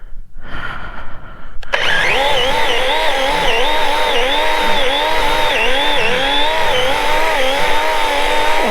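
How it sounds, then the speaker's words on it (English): A chainsaw roars to life after a short quiet lead-in, then cuts loudly and close with a steady buzz whose pitch dips and rises repeatedly as the chain bogs into the wood and recovers. "Or I gotta sharpen this saw."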